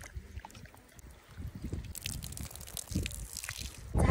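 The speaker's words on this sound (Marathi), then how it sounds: "आता धुवूया तात्याच्या शॉवर वर" Katla fish washed under an outdoor shower on a farm, a close, uneven spattering of water and wet handling that grows louder and busier over a few seconds.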